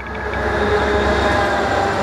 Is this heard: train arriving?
yes